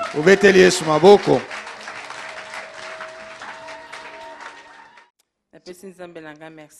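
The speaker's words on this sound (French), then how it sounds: "Acclamons Jésus." Congregation applauding at a church service, a loud burst of clapping mixed with shouting voices that fades over several seconds, followed by a brief pause and then a voice speaking.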